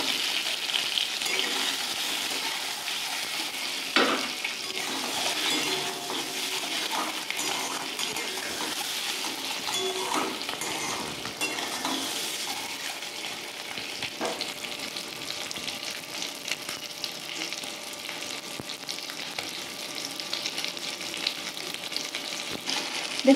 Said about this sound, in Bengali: আমি ডিমগুলোকেও ভেজে নেব।